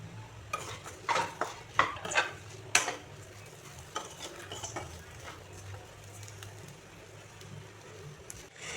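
Rice being stirred and fried in a pan with cashews and raisins, a few sharp scrapes and clinks of the spoon early on, then a quieter low sizzle.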